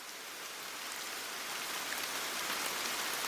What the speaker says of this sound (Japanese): 雨が降りました。